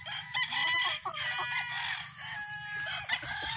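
Stag roosters crow over a farmyard in Candelaria, Quezon, several overlapping cock-a-doodle-doos with clucking among them, near and fairly loud against steady low background rumble.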